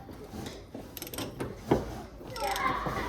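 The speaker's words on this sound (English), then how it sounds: "Put a socket on here." A socket wrench ratchets and clicks while adjusting the shock setting on an Arctic Cat snowmobile, with mechanical twisting and creaks in a short close-up burst and a brief louder knock partway through.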